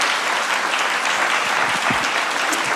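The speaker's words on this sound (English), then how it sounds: "Can we give a round of applause for our panelists?" A live audience at a foster care event gives a steady round of applause for the panelists, loud and dense clapping that fills the whole stretch without a break.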